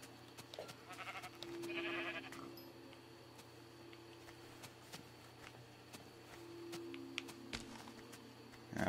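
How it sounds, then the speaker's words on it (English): Faint sheep bleats from a Minecraft-style video game, a couple of brief calls over a steady background hum and soft game clicks and footsteps, with no talking. "Where's that other sheep? There he is."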